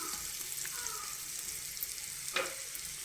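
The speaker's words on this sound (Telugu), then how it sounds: "ఆనియన్ కొంచెం వేగాలండి." Onions fry in a pan with a steady, close hiss of sizzling oil, marked by occasional light stirring scrapes and a brief louder sputter, with no voices.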